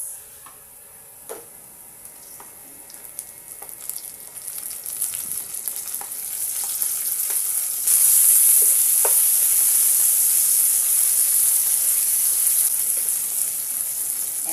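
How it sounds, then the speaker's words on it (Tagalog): Garlic and onion sautéing in a pan, a steady bright sizzle that builds and grows louder partway through, with occasional ticks and stirring clicks, close up and without talk. "Papulayin muna natin yung ating bawang at sibuyas."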